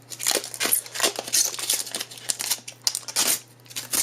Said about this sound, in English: Let's go ahead and get some of the protective packaging off.